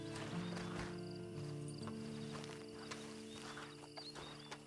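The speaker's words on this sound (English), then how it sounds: "Then you better get on this horse." In Red Dead Redemption 2, a horse's hooves clip-clop at a walking pace, faint and low under steady background tones and ambient noise.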